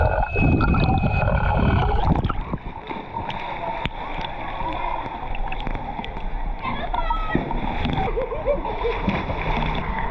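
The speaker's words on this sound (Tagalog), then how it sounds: "Tampisaw sa tubig" Water splashes and sloshes loudly near the microphone at a beach in Nasugbu, with bursts of splashing over continuous sea noise and children's voices chattering in the background.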